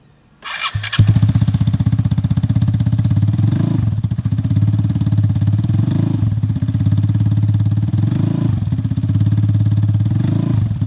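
A Vespa Primavera i-Get 150 scooter with an aftermarket exhaust starts and then idles steadily with a deep, throaty exhaust burble and a slight lilt every few seconds, close and loud, with no talking.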